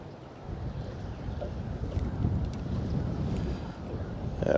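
Wind blowing steadily outdoors during a fishing outing on the water, with continuous broadband rumble and buffeting against the microphone that swells a little toward the end; no talk.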